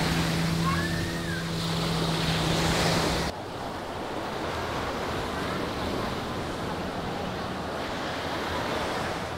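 Ocean surf rolls onto the beach at Pantai Carita in bad weather, a continuous wash of breaking waves mixed with gusting wind buffeting the microphone. The sound shifts abruptly partway through to a slightly quieter, rougher roar.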